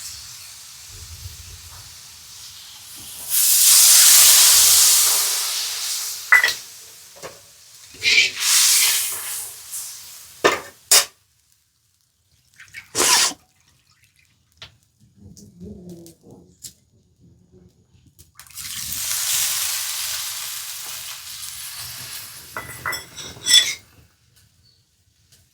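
A pot of curry comes to the boil, giving off two long bursts of hissing steam separated by sharp clinks and clatters of utensils, with quieter stretches between.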